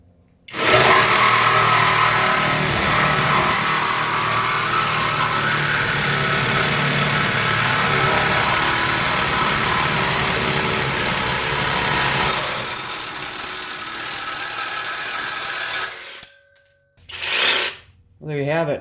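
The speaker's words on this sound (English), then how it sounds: "Let's test it out on a piece of metal once. I've got a 14 tooth bi-metal DeWalt blade." A SKIL 12V cordless reciprocating saw cuts through metal with a 14-tooth DeWalt bi-metal blade, a loud, steady buzzing rasp sustained for about fifteen seconds before stopping, followed by a few brief clanks and rattles.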